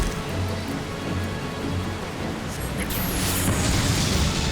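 A Black Mage casts the Flare fire spell in Final Fantasy XIV, erupting as one heavy rumbling burst about two-thirds of the way through, over steady dense background noise with no talking.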